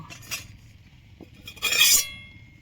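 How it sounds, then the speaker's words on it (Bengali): A metal wok (karahi) is set onto a stove with a brief metallic clink, followed by a louder scraping clatter as it settles. Close and clear, with no voices. "এখন আমি কড়াইটা বসে দেব"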